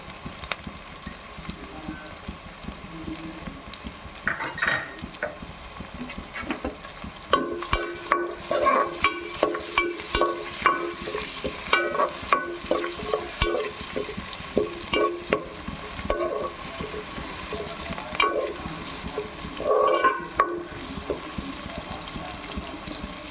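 Onions frying with salt in a pan for a green gram sambar, a steady near sizzle broken by repeated scraping stir strokes that grow busier midway, with no talk.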